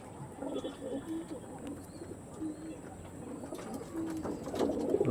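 Pigeons, tournament-quality flying birds, coo softly and repeatedly in a low, muffled murmur, with chirps and rustling around them and someone speaking over the birds throughout.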